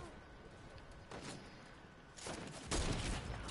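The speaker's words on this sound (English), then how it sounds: "I'm about to throw these grenades up there." Grenade explosions in the Fortnite video game, heard as two broad bursts in the second half, the later one louder, over a steady background of game noise.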